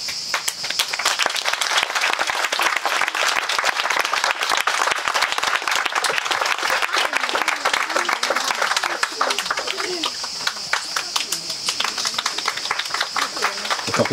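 Wedding guests applauding after the vows at a ceremony, sustained dense clapping from a sizable group over many seconds, with voices and talk rising beneath it toward the end.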